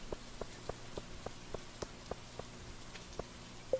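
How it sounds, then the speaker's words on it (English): Rain falls in the Stardew Valley video game as a quiet, steady hiss, with soft regular drip-like taps spaced through it and no voices. "Coons, it's raining."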